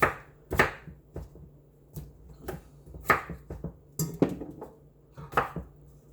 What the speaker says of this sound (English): So I'll make these bigger pieces a little bit smaller because they are thick.